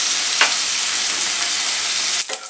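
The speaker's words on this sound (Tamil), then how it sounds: "அது வரைக்கும் நம்ம வந்து இதை ஃப்ரை பண்ணணும். இது ஃப்ரை ஆகட்டும்." Pirandai (veldt grape) stems and leaves frying in a pan, a steady loud sizzle with a couple of brief stirring scrapes, no talk.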